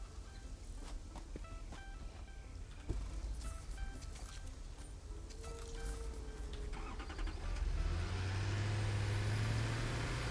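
Truck engine in the factory-building game Satisfactory, a low steady rumble with a rising whine toward the end as the vehicle revs, heard faintly under game ambience and scattered clicks.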